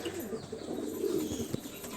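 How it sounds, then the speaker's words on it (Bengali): Many pigeons cooing together in a loft, a soft, continuous low murmur of overlapping coos at close range with no talking. "প্রচুর পায়রা দাদার"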